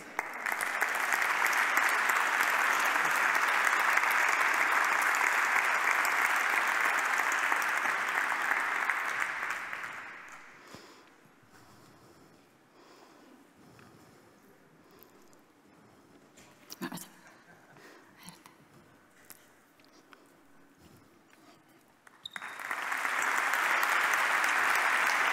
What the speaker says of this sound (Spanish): Un fuerte aplauso para David Ruiz por Grupo BTP.